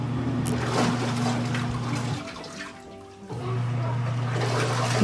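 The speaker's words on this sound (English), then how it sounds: "So now it's in the washing and spinning mode." Portable washing machine in its wash and spin cycle, a steady motor hum with sloshing water that briefly drops away and then resumes at the same level.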